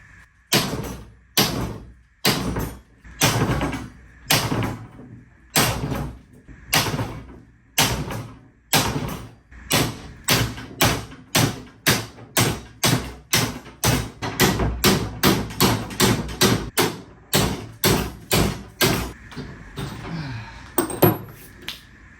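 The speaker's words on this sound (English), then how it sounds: "I'm going to bang on this with a hammer." Repeated hard metallic bangs of a hammer striking rusty metal on a trike build start slow and widely spaced, then speed up into a fast, loud series of blows.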